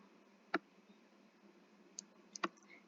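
Computer keyboard arrow keys clicking during graphic design work, two sharp isolated clicks about two seconds apart with a couple of fainter taps between, close and quiet against a faint hum.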